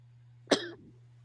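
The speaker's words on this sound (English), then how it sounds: "Is that a COVID cough?" One sharp, close cough bursts out alone against a steady low electrical hum, trailing briefly into a rough throaty tail.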